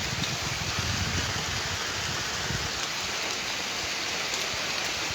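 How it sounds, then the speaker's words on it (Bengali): Heavy rain pours down during a Kalbaishakhi storm at Charmonai in Barishal, a loud, steady, close wash of drops on surfaces with no voices. "এই বৃষ্টির কোলাহলের মধ্যে"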